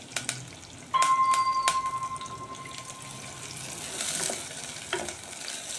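Curry leaves and onions fry in oil for a dry fish curry, a close sizzle with a few clinks and a brief ringing metallic tone near the start, then a softer crackle.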